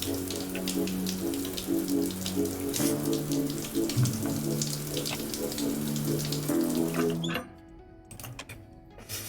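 Shower water runs in the Stationeers video game as a steady hissing spray with soft music playing over it, both cutting out abruptly near the end, leaving faint noise.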